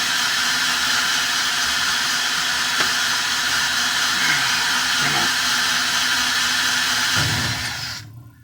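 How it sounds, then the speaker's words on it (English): A power drill bores into a bolt head on a 1975 Kenworth LW924 truck door panel, a steady whirring grind running close and loud throughout before cutting off at the end. "That's a fair amount of drilling there."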